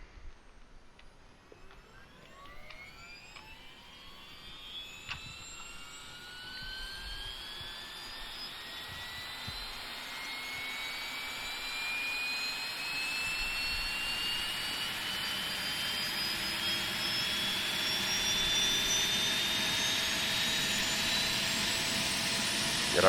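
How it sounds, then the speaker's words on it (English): A Boeing 717 auxiliary power unit spools up in a flight simulator, a rising turbine whine that climbs steadily in pitch and grows louder over about twenty seconds, with no talking. "Got our APU starting up here."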